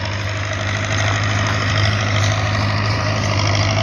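A Belarus 510 tractor pulling an 18-disc harrow for field preparation runs with a loud, close, steady diesel drone and a strong low throb, without a pause or any talking.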